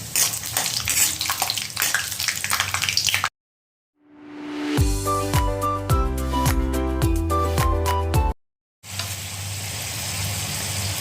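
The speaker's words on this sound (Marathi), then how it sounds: "तेल तापलेलं आहे आणि मी ही शेंगदाणे आधी थोडेसे तळून घेते" Peanuts fry in hot oil, giving a loud, steady, close hiss that breaks off for a stretch of tonal music and then returns to the same dense sizzle.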